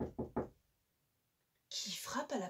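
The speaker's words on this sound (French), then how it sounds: "qui frappe à la porte?" Three quick, firm knocks on a door during a French children's story reading, followed after a pause by a voice speaking.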